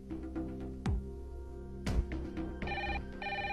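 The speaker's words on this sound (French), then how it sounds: "Ce téléphone fixe, il n'arrête pas de sonner." A landline telephone rings in a drama scene, its bell tones recurring over a steady musical background with a couple of sharp hits, fairly loud and without speech.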